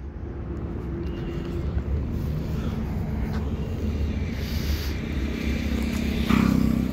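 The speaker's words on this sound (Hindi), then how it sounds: "तो ऐसे कुछ लगती है SC प्रोजेक्ट लगने के बाद में" A Yamaha R15 V4 motorcycle fitted with an SC Project carbon fiber exhaust idles nearby with a steady, deep, throbbing rumble that swells slightly at the end.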